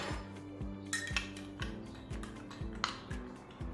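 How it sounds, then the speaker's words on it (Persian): A spoon stirs a mixture of yeast, warm water and a little sugar for Fouman cookie dough, clinking against a bowl in a quick, steady rhythm of close, light metallic taps. "یه مقدار همش میزنم که خوب مخلوط بشه"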